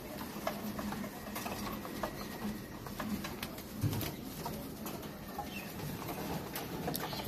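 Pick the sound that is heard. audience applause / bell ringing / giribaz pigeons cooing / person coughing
giribaz pigeons cooing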